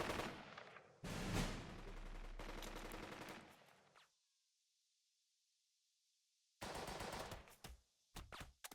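Gunfire from the Burden of Command video game: sustained rapid machine-gun bursts for several seconds, then near silence, followed by a renewed burst and a couple of short, loud volleys.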